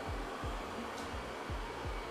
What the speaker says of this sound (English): this robot vacuum's pretty cool